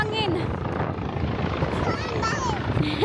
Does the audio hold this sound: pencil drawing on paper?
no